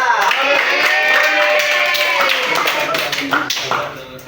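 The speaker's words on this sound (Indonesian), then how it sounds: "Beri tepuk tangan yang meriah" An audience claps together at an Islamic talk on patience, a loud, steady wash of hand claps with a few crisp individual slaps that thins toward the end, mixed with a faint voice.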